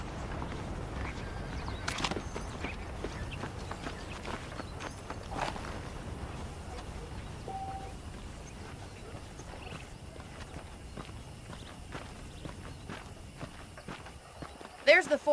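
Horse hooves in the video game Red Dead Redemption clip-clop at a walking pace, soft and fairly close, with occasional snorts and a brief whinny near the end.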